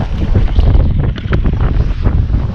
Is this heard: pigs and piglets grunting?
no